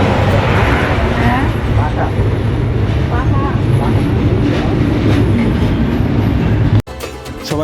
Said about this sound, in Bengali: ট্রেনটি সেতুর উপর দিয়ে যাচ্ছে